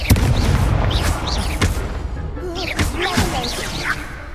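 Confringo blasting spells in Hogwarts Legacy go off as several loud booming blasts and sharp cracks amid a duel, with speech and spell chatter heard between the explosions.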